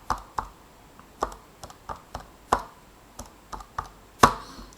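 Buttons pressed on a calculator while numbers are entered, a series of sharp, separate clicks and taps at an uneven pace, close and fairly quiet, with no talking.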